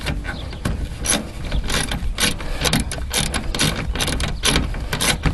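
Socket ratchet turned in reverse to back out bolts on a Ford Ranger door while installing speakers, giving a loud, fast run of close metallic clicks with short pauses, running the whole time.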